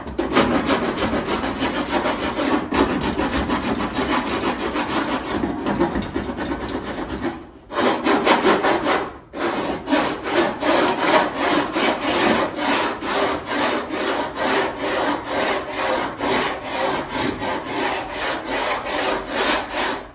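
A fender flare being shaped and sanded by hand, heard as rhythmic rasping strokes, even and close, that run on with two brief pauses.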